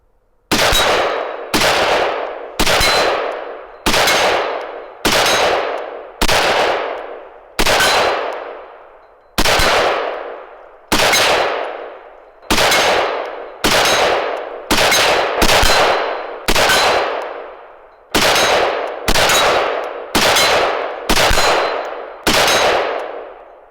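Rifle fire with green-tipped X-Tac ammunition: about fifteen loud, sharp single shots spaced one to two seconds apart, each followed by a short ringing decay, with no voices.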